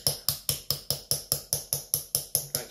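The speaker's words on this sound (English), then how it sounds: "you're going to work your way along the line, chiseling in" Light hammer taps on a chisel cutting into soft stone, about a dozen evenly spaced sharp clinks in a steady rhythm, close and clear with no talk.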